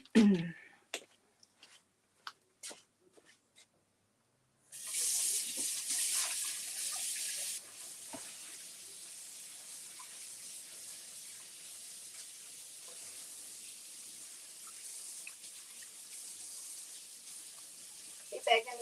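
A tap runs for hand washing, a steady hiss of flowing water that starts after a few scattered knocks and then carries on at an even level for the rest of the stretch.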